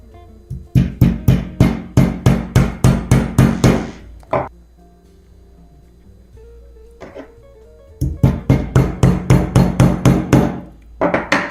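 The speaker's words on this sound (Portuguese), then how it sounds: "E você pega um martelo e vai bater aqui." A hammer taps small tacks into a painted sign in two quick bursts of evenly spaced, sharp, close knocks, around a dozen each, separated by a pause with a single stray tap.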